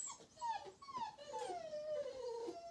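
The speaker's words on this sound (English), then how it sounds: "You guys will have to excuse my crazy dogs again." Dogs whimper and yip indoors in a string of high, wavering whines and short yelps. They sound fairly faint, as if from a room away.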